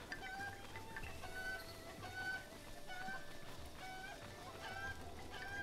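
Chickens clucking in Zelda Breath of the Wild, faint repeated honking and clucking calls over a steady ambient bed, spaced irregularly across the scene with no talking.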